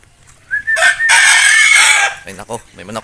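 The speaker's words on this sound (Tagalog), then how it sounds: "Ay nako, may manok." A rooster crows once loudly and close, a long drawn-out cock-a-doodle-doo, followed by a few short clucks.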